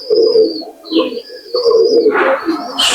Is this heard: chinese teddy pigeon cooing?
yes